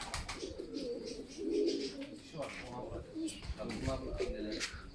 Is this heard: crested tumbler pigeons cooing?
yes